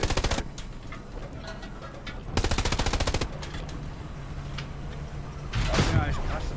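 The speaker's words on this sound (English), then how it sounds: "We're getting shot from the left" Bursts of machine-gun fire in the WWII shooter Hell Let Loose, with two sustained rapid volleys and scattered shots plus a distant rumble, heard under people talking.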